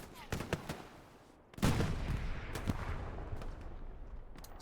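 Gunfire in the World War II shooter Hell Let Loose at Sainte-Mère-Église, with a few sharp distant shots followed by a loud burst of rapid fire and rumbling battle noise.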